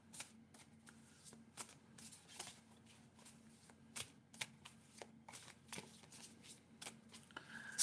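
Tarot cards shuffled at close range during a live reading, a run of quick riffling bursts and soft flicks repeating irregularly with no voice over them.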